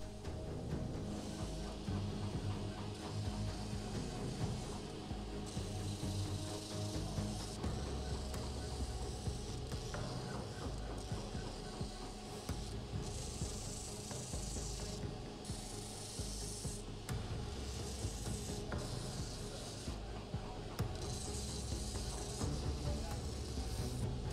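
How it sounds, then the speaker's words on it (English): A sander roughs out the shape of a wooden sword handle, a continuous close abrasive rubbing and rasping that swells in repeated strokes, with a workshop soundtrack underneath. "goes to the sander and roughs in the shape of this handle"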